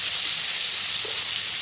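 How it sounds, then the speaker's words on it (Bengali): Chopped onions fry in hot oil in a wok with bay leaf and whole cumin seeds, giving a steady, even sizzling hiss with no talk. "এখন দিয়ে দেবো তেজপাতা, এখানে দিলাম কয়েকটা গোটা জিরে আর ফোড়ন, আর তার উপরে দিয়ে দেবো পেঁয়াজ।"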